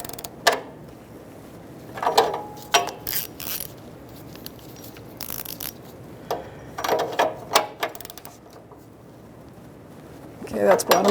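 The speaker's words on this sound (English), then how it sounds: "you just want to tighten it till it bottoms out" Repeated short bursts of ratchet clicking as a wrench snugs down the downstream oxygen sensor on a 2000-2007 Ford Taurus, in separate spaced clusters over a low background murmur, with a final louder run at the end.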